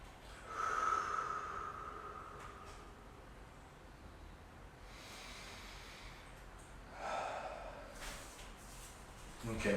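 Slow, deep breaths are taken while holding a stretch during a lower-body mobility session, soft audible inhales and exhales rising and falling at low volume with faint background noise.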